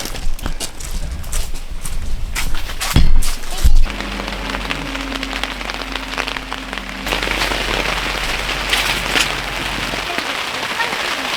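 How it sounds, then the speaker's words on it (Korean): Rain patters steadily onto a camera at a campsite, a close, dense hiss of drops with a few louder knocks early on, continuing evenly to the end. "카메라 비 맞고 있다"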